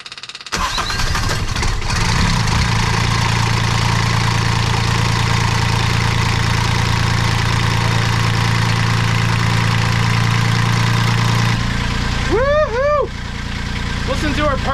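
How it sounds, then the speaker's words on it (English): A replacement sailboat engine cranks and catches, then settles into a steady, smooth idle close by; near the end a few short chirping sounds are heard over it. "start this engine up and see."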